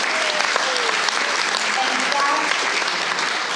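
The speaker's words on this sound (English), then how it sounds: "Give yourself a big round of applause" An audience at an ethnic media awards ceremony claps steadily and loudly for the full stretch, a dense even wash with faint voices mixed in.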